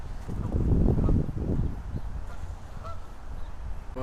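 Geese honk in a park beside water, several calls overlapping in the first couple of seconds and then thinning to scattered nearer honks over a rustling outdoor background.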